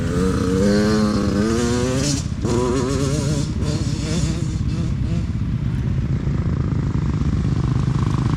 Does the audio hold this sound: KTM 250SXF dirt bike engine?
yes